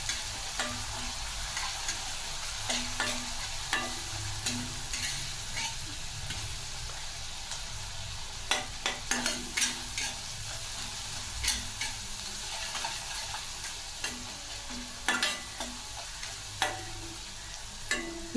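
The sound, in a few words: green chillies frying in oil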